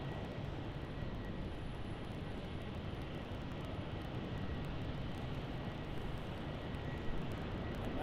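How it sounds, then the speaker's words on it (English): A Qantas Airbus A380 at Brisbane Airport roars with a steady, broad, loud jet-engine rumble that holds without a break throughout. "Max, the Qantas A380."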